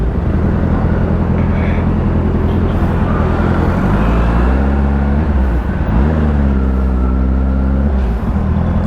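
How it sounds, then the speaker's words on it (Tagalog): Busy road traffic with many trucks, heard from a motorcycle: loud, continuous engine drone and roadway rumble, with pitch rising and falling as heavy vehicles pass and accelerate nearby. "Ang daming truck dito, guys."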